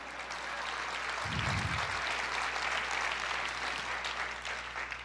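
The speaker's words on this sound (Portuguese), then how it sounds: "Aplauda o Senhor" A church congregation applauds during a Pentecostal sermon, a dense steady wash of clapping filling the whole stretch with a brief low thump near the start.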